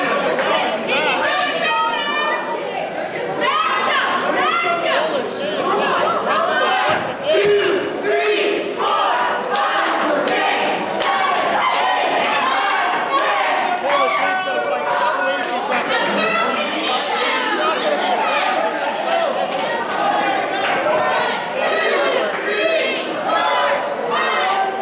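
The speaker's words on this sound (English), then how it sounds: "Crowd doing an excellent job of proving they're able to count to 10." A wrestling crowd chanting a count to ten in unison during a last-man-standing match, a loud, dense roar of many voices shouting rhythmically and continuously throughout.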